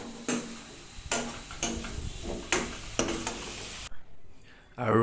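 Pork with spices frying in a pan gives a steady soft sizzle, broken by several sharp scraping strokes as it is stirred, and ends in a brief quieter moment.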